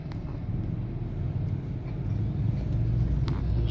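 A motorcycle engine rumbles low and steady through floodwater on a city street in Naga during a typhoon, the drone swelling slightly louder toward the end.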